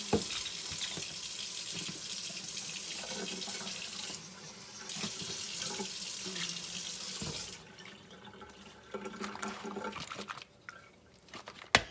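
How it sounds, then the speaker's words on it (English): A kitchen tap runs water into a dish of bread pudding, a steady hissing flow that cuts off partway, then resumes with softer splashing, close and alone. "I may have to add a little bit more water."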